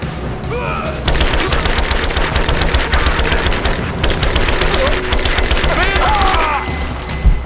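Sustained gunfire in Rise of the Tomb Raider, a dense, loud stream of rapid automatic shots and cracks running almost nonstop, with faint shouted voices briefly audible within the din.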